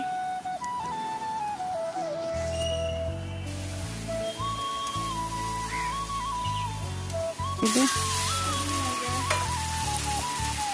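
Meat frying in a pan with Kashmiri chilli powder added for colour in a home kitchen: a loud, continuous close sizzle with occasional stirring, no talk.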